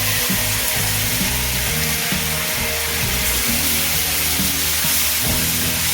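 Spice paste for methi malai paneer going into a hot pan and frying: a steady broadband sizzle with scraping stirring knocks at irregular intervals, close and continuous.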